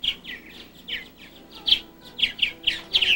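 An American goldfinch at a feeder sings a series of bright, high chirps and twittering notes, repeated in quick irregular bursts, close and clear over a quiet background.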